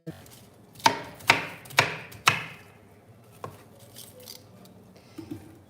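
Knife chopping half a head of cabbage into inch chunks on a cutting board: four sharp, evenly spaced chops close up, then a softer single cut and a few light taps, with no talking.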